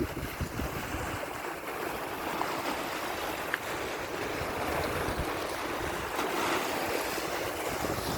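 Sea waves at a beach in the evening wash in as a steady, broad surf roar with a soft wash of wind, continuous and fairly close, with no voices.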